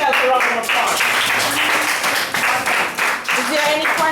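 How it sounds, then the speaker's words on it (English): Community gathering audience clapping for themselves, lively applause with loud close claps and a few scattered voices and cheers mixed in, some tonal sound weaving through. "Give yourself a round of applause."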